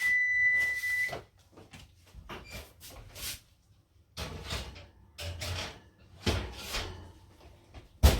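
A kitchen timer rings in a home kitchen where vegan chocolate chip cookies are baking, a short electronic tone, followed by a series of clicks and knocks as the oven door is opened and trays are handled.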